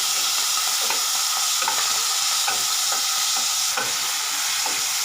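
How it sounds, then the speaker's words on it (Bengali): Salt-and-turmeric-marinated prawns fry in hot mustard oil, giving a loud, steady sizzle with faint scraping stirs ticking through it at intervals, with no talk. "তেল গরম হয়ে গেছে, এবার আমি তেলের মধ্যে দিয়ে দিচ্ছি আগে থেকে নুন হলুদ মাখিয়ে রাখা চিংড়ি মাছগুলো"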